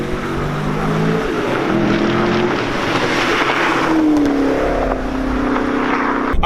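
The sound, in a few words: 2018 Camaro SS 1LE engine accelerating after downshift to third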